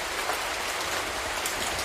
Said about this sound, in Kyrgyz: Силер жамгырды жасап алдыңар.